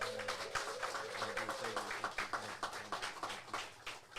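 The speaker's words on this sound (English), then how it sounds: "y'all give a big round of applause to William Calloway" A room audience on a live talk show claps for a guest, with sharp, fairly rhythmic claps standing out over a low tonal background and some voices.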